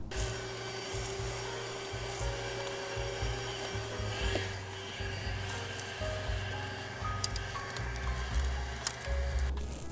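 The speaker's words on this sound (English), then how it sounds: "I'll just vacuum that out really quick." A vacuum cleaner sucks debris and mouse food out of the opening left by the removed PCV valve on an Audi/VW A4 2.0T engine. It gives a steady, close, droning whine with faint rattles and no talking.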